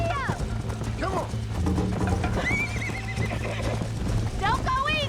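Horse in the video game Red Dead Redemption, racing on a course, with steady clip-clop hoofbeats, repeated neighs and whinnies, and mechanical clicking in the game mix; a voice talks over it.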